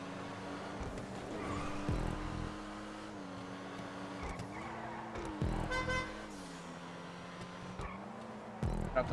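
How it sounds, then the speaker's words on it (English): Car horn honks in an Xbox racing game sound over a constant engine drone, with several short toots spaced through the stretch, some brief and clipped, and faint voices in the background. "Got the honk for Maddie."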